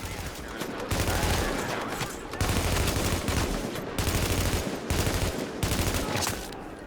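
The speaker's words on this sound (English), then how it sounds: "Are there like two rival teams shooting at each other?" Sustained exchange of gunfire between rival teams in The Division, rapid automatic bursts at a middle distance in repeated waves with short pauses between volleys.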